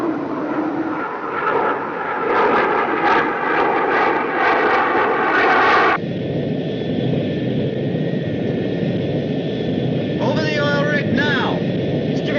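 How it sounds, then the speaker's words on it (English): An aircraft drones overhead in a loud, continuous engine roar that shifts in tone partway through, with voices briefly heard over it. "It's an aircraft."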